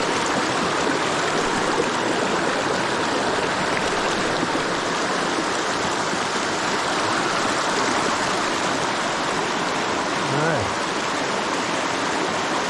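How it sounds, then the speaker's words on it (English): Mountain stream rapids in the Great Smoky Mountains pour over rocks in a steady, full rushing wash of water, close and constant, with a faint brief voice near the end. "just a little bit of rapids coming through and it drops off"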